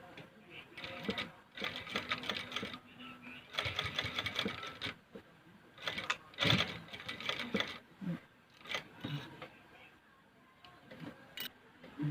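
A sewing machine runs in short bursts of stitching as a trouser waistband is taken in, with pauses between runs where someone speaks.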